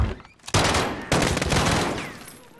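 Two loud bursts of rapid Uzi fire in Call of Duty: Modern Warfare, each a dense crackling volley, the second longer and trailing off, close and sharp.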